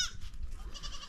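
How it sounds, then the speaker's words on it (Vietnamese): A goat at a Hamar tribal homestead bleats close by in one drawn-out, wavering call with light background noise. "có những cái con dê"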